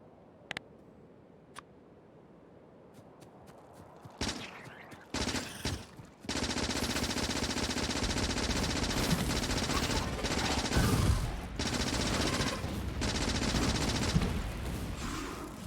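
Sustained automatic gunfire mowing down biters in the factory-building game Factorio, fast rattling bursts running loud and continuous for most of the stretch after a few quieter clicks and a sharp shot at the start.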